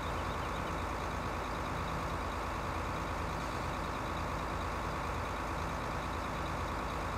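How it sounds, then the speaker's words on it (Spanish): A tractor engine pulling a trailer in Farming Simulator 2015 drones steadily and loudly throughout, a dense continuous rumble with no pauses and no voices. "Y con el otro tractor que nos queda, pues iremos con el doble remolque a..."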